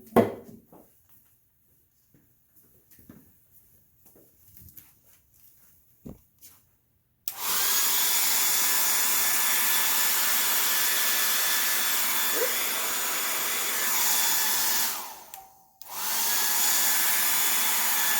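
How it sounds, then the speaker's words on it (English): After quiet rustling, a hair dryer switches on and blows steadily at close range over wet watercolor paint, briefly cutting off before starting again. "as I use the hairdryer, it's moving the puddles of water around"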